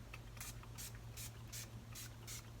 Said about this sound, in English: I use this Florence Zero Chill Face Mist. So I'll just use this and spray it all over my face.